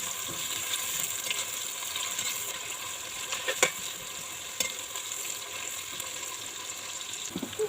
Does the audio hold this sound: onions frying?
yes